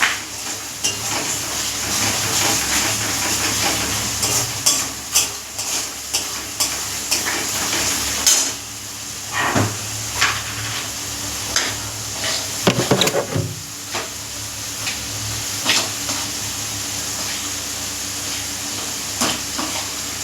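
Potatoes frying in a pan for a pea-filled kachori and aloo dum meal, a steady loud sizzle broken by repeated scraping stirs and clanks of a spatula against the metal, with no talking.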